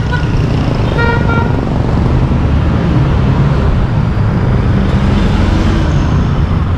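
Loud, steady road traffic roars past a cyclist on a busy road, with a short car-horn toot near the start and continuous engine and tyre noise throughout.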